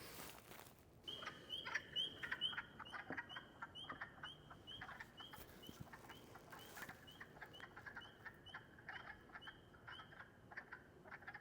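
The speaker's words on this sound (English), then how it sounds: "You'll hear in this recording one spring peeper that was out here and a bunch of wood frogs courting." Wood frogs courting in a spring field recording, with a single spring peeper among them: a faint chorus of repeated duck-like clucks and a high, steady piping peep that recurs throughout.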